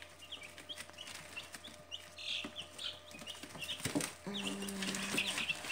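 Young incubator-hatched chicks cluck and peep softly at close range, with scattered chirps, a brief rustle and a faint background hum.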